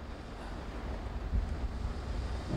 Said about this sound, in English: There's a nice surf coming in.